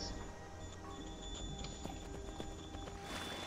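Horse hooves clip-clopping in Skyrim while riding a horse in dragonplate armor, rhythmic faint steps under a soft game ambience with tonal background hum.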